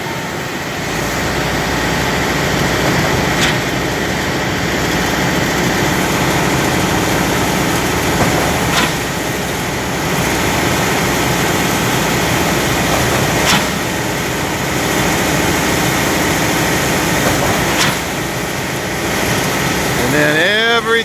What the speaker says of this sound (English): Everything revs up, and there comes the cement.